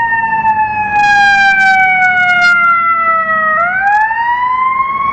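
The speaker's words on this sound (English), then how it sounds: "That siren is deafening, dude." A loud, close fire engine siren wailing in a long falling sweep, then rising again, with a rumbling engine underneath.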